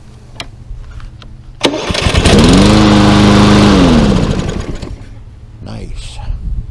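Fairly new Lawn-Boy mower with a Kohler engine and electric start cranks and catches, then runs loudly nearby for a couple of seconds before settling back down; people talk around it.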